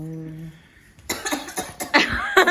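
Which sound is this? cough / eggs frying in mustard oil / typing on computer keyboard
cough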